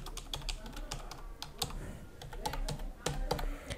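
An account password being typed on a computer keyboard, a close, steady run of quick light key clicks with a few louder strokes, fairly quiet over a low background hum.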